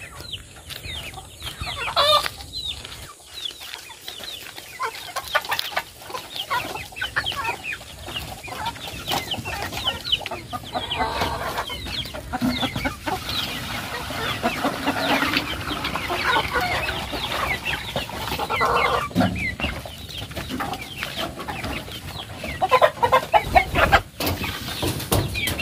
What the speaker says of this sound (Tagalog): Ayun natin yung mga manok.